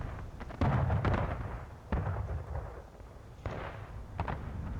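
Booming artillery cannon fire in a battle video game, three heavy blasts spaced about a second or two apart, each with a long rolling decay, no talk.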